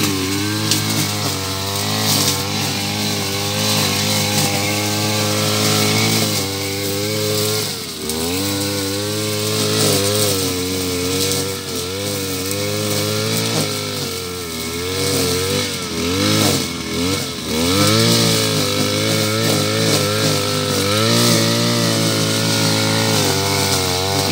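An Oleo-Mac motorized brush cutter with a nylon line head clears weeds beneath hazelnut trees, its two-stroke engine droning loudly and steadily throughout with repeated revving surges and dips as the line cuts.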